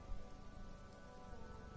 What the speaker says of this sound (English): And now it started to rain.